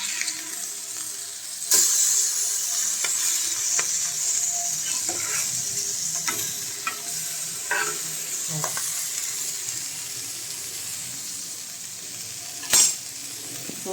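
Papaya pieces frying in hot oil just after being flipped, a steady close sizzle with occasional stirring clicks and a couple of sharper spatters, no talking.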